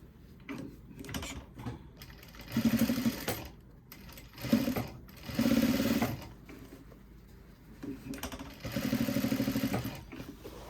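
A sewing machine stitches the pocket lining of a pair of jeans, running in several bursts of steady, rapid mechanical whirring and clatter with short pauses between them, close and alone.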